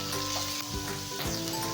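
Onions and beans frying in oil in a pan for poha, a steady close sizzle with a few soft stirring scrapes, no voices.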